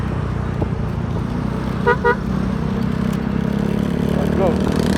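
Rush hour road traffic in Antipolo heard from a Mio Gear 125 motorcycle: a steady loud engine and road rumble, with a pair of short car horn toots in the middle and a faint chirp later.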